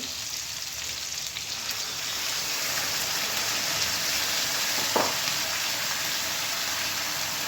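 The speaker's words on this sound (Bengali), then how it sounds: "এবার আমি দিয়ে দেবো সামান্য একটুখানি জল" A steady, loud hiss of water poured onto fried spices in a pan for a rui fish curry, with a continuous bright sizzle and one brief sharper spatter near the end.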